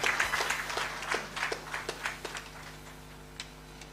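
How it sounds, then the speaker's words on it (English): An audience at a ceremony for the International Day of Persons with Disabilities gives a round of applause, a dense patter of many hands that swells early and then thins to scattered claps over about four seconds. "let's give him one more round of applause."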